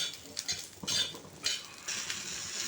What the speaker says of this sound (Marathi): आता आपण या लसणाच्या पाकळ्या हिरवी मिरची आणि आल्याचा तुकडासुद्धा थोडासा भाजून घेणार आहे